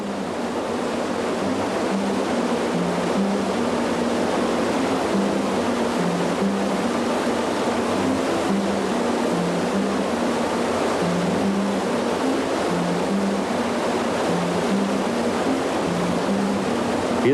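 A steady, loud roar of water pours over a waterfall where Atlantic salmon leap against the falls. The rush is unbroken throughout, with no distinct splashes standing out.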